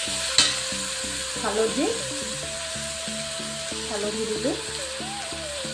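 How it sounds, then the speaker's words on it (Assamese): Tomatoes sizzle and fry in a pan while being stirred for a boiled pea chaat, a steady close frying hiss with occasional scraping stirs, under soft speech and background music. "এতিয়া মই বিলাহী ভাজি আছোঁ।"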